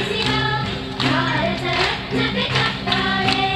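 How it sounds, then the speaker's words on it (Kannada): Loud, continuous applause from a school audience at a silver jubilee felicitation ceremony, a dense steady wash of many hands clapping close by with no voices over it. "ಹೆಮ್ಮಗಳ ಜೋರಾದ ಚಪ್ಪಾಳೆ ಮೂಲಕ ಅವರನ್ನ ಅಭಿನಂದಿಸ್ತಾ ಇದ್ದೀನಿ"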